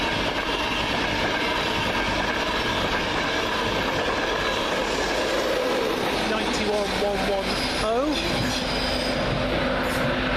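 A train runs through Doncaster station with a loud, continuous rumble and clatter of wheels. High wheel squeal rises near the end, and a voice is faintly heard under the noise.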